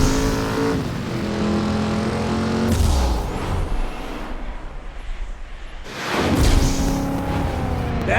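Video game car engine droning steadily with harmonic whine, fading mid-clip as if passing away, then swelling back loud near the end.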